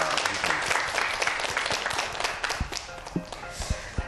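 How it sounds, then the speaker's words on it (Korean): Studio audience applause at a televised math talk show, a sustained patter of many hands with a few louder individual claps near the end. "오늘 함께해 주신 소장님께 다시 한번 큰 박수 보내주세요"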